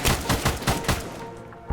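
Several sharp Mk11 Mod 0 marksman rifle shots in Arma 3, five or six reports in quick succession at a steady rhythm, close and loud, then one more after a short pause.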